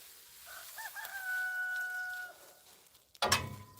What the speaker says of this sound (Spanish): Canta el gallo